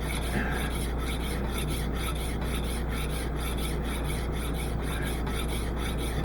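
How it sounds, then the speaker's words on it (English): A hand file rasps steadily across metal to take down a high spot, a continuous close scraping with regular repeated strokes and no voices. "And you just file it down."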